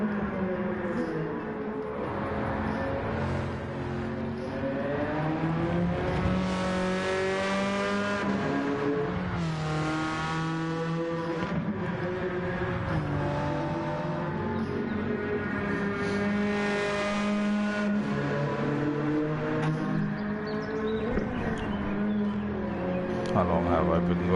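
A race car in Gran Turismo 7 revs hard and repeatedly through rising and falling gear changes, with bursts of tire squeal, while someone talks over the engine noise.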